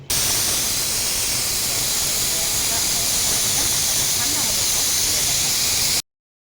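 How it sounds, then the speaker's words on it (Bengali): A pressure cooker vents steam with a loud, sustained whistling hiss at close range, steady for about six seconds before cutting off. "একটা সিটি হলেই হয়ে যাবে, তো একটা সিটি হলে আমি গ্যাসটাকে অফ করে দেবো।"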